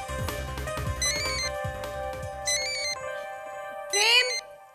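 A mobile phone ringtone plays a melodic electronic tune in repeated bursts, loud and clear, ringing in a scene from a Hindi television serial.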